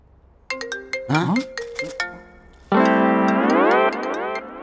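A phone ringtone plays a short run of bright electronic notes, then shifts into a sustained, rising melodic tone.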